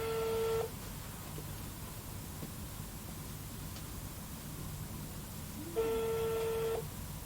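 A telephone call sounds two long ringback tones, one at the start and one near the end, with a hissy line silence between them.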